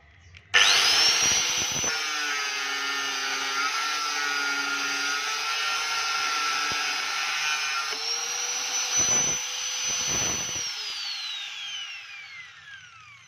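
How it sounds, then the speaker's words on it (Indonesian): An angle grinder whines steadily while grinding a coconut shell cup, a loud sustained high-pitched drone that shifts pitch slightly as the shell is worked, then winds down near the end. "sekarang tinggal kita gerinda"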